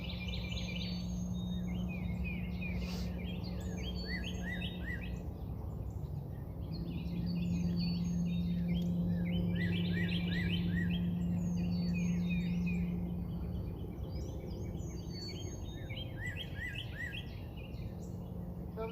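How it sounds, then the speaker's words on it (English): Birds chirp and trill in repeated bright bursts across a morning fishing trip at Pa Khoang lake, moderately distant over a steady low hum, with no talking. "Comes the birds, baby."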